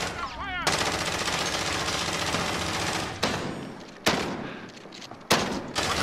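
Gunfire from a shotgun in the Modern Warfare Warzone battle royale video game: dense, loud bursts of shots and combat noise run almost continuously, with a few sharp blasts standing out near the end.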